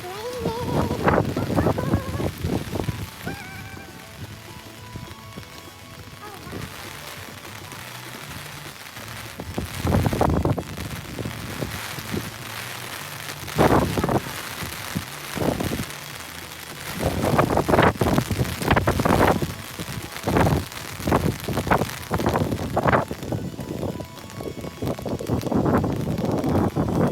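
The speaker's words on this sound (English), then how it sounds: "Uh-oh. It's raining." Steady rain from a hailstorm hisses over a surface at moderate volume, with wind noise, possible distant thunder, and people talking in several bursts over the downpour.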